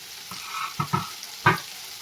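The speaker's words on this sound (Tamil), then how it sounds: "சேர்த்துட்டு இதை நல்லா வதக்கி விட்டுணும்." Guava chutney base with curry leaves and coriander sautéing in a pan: a low, quiet sizzle broken by a few distinct stirring scrapes, two close together and one louder near the end.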